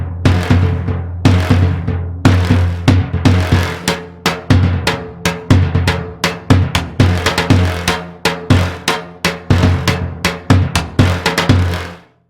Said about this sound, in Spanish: Se trata de un gran tambor que se lleva colgado y que permite que se toque de los dos lados.